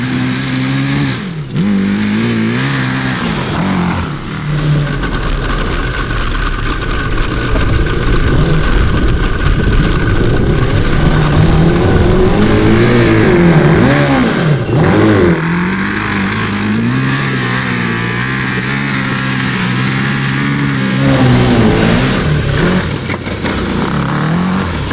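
A backyard-built 750cc cross kart engine revs loudly and continuously, rising and falling in pitch through repeated throttle blips, heard up close with no talking.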